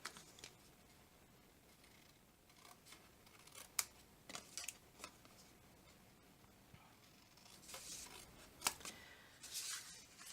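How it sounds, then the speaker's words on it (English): Scissors cut tabs from white paper hexagons for a handmade floral gift box: a few faint, crisp snips, spaced out and quiet in a still room. "I'm going to cut off the tabs."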